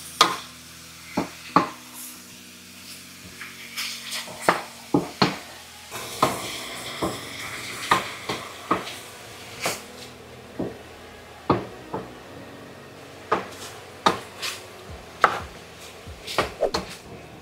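Pork being stirred in a pan until light brown, with irregular sharp scraping and knocking of a utensil against the pan over a faint sizzle, close and fairly loud, with no talking.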